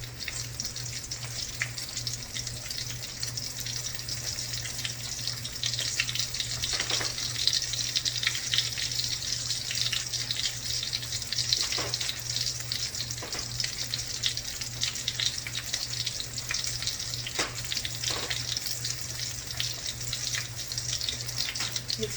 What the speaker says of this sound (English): I'm going to put the sauce in this pan and add the fish